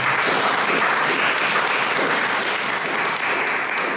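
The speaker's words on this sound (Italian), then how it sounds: "vi chiedo un altro applauso per Pierre Costa" An audience at an Italian talk on reggae and Black British culture applauds for a reggae expert, a steady, full burst of clapping that stays strong for the whole stretch.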